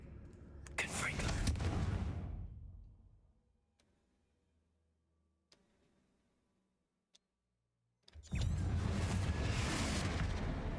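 The Confringo explosive fire spell in the video game Hogwarts Legacy bursts out twice as loud, roaring whooshes that fade over a second or two, separated by a near-silent gap with a few faint ticks.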